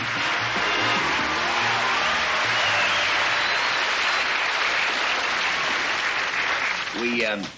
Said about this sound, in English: But tonight, the applause is for Jack.